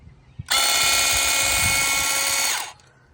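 A lightweight electric hedge trimmer switches on and runs at a steady, loud, high buzz for about two seconds, then winds down, with faint handling knocks just before it starts.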